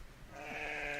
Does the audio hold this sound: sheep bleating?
yes